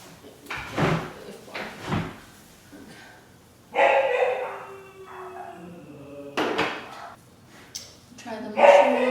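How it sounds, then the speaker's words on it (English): A dog barks a few times in the background, sharp intermittent yaps breaking through people chatting and kitchen clatter. "there's this dog that keeps barking too."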